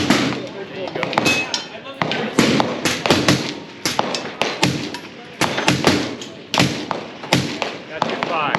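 Five gunshots at an outdoor Sig Sauer range, sharp thuds and cracks with other shooters firing nearby, while people talk close by throughout.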